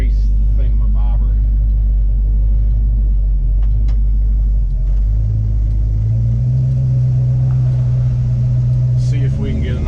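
A 1968 Dodge Charger fitted with an Edelbrock coil rumbles on a highway, its engine a loud, close low drone that rises in pitch as it accelerates, with brief bumps and rattles.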